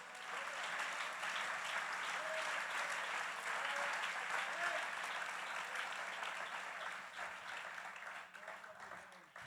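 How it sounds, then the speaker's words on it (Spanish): A church congregation applauds during a sermon, a broad wash of clapping that holds steady and then thins toward the end, with a few faint voices mixed in. "Dele fuerte ese aplauso a Jesús"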